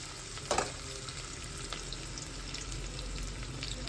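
Onion dropped into hot oil with cumin and mustard seeds, a brief burst of sizzle followed by a steady, even frying hiss throughout.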